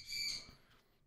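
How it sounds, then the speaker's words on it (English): A pet bird gives one short, shrill squawk nearby, fairly faint, fading out after about half a second in a quiet room. "that bird can hear my wife moving around upstairs. He's already squawking."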